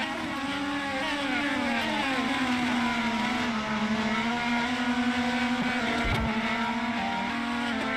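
IndyCar race cars battle on the Marina Bay street circuit in a racing video game, their loud, high-pitched engines whining continuously and shifting pitch as they accelerate and ease off.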